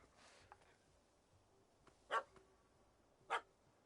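A dog barks twice in The Witcher 3, two short, distinct barks spaced about a second apart over quiet background ambience, fairly faint and at a moderate distance.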